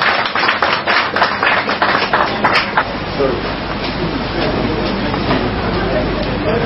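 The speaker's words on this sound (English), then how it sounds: "Round of applause." A burst of crowd clapping in the opening seconds, dense and fairly loud, fading into a steady murmur of voices and room noise.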